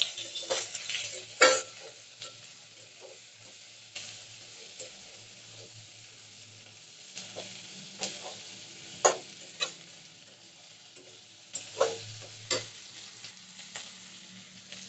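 Tomatoes go into a pan with ginger and garlic and are stirred as they fry: a quiet background sizzle punctuated by repeated sharp clinks and scrapes of a spoon against the pan.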